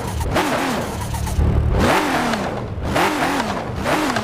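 A BMW i8 fitted with a W16 engine in the Car Parking video game revs hard in three rising-and-falling surges, a steady close engine drone with no talk over it.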